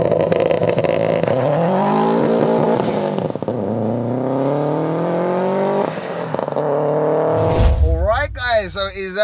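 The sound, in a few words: 488bhp Subaru WRX STI accelerating in a rolling launch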